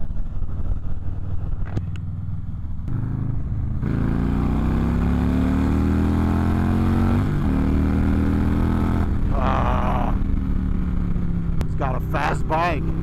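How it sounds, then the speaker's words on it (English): An engine drone rises and falls as a vehicle moves, with a rising revving pitch and shifting tones suggesting motorbikes passing close by; voices talk over it. "Fast bike."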